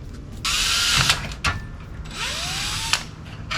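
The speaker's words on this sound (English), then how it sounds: "I'm just going to drill in, and then I'm going to Dremel to get it to fit." A power drill bores into a kayak motor's throttle mount, running in two sustained, close whirring bursts separated by short pauses, with small knocks of handling between them.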